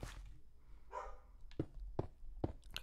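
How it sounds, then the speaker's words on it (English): A dog barks three or four times in short separate yelps at moderate distance, amid faint background noise. "my dog is barking"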